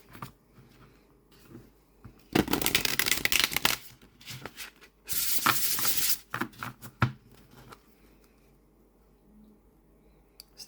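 Linen-finish tarot cards shuffled in two loud, crisp riffling bursts, with lighter taps and flicks of the flexible deck between and after them, close up with no talking.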